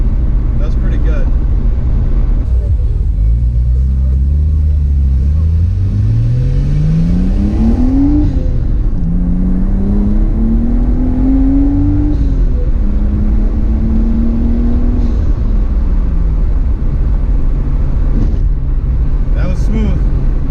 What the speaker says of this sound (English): That was 0 to 60 with not a single pop.